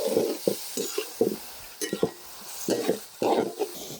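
Cauliflower, mushroom, ginger and garlic being stir-fried for a Chinese-style gravy: a spoon scrapes and clatters against the pan in irregular bursts over a soft background sizzle, close and fairly quiet, no talking.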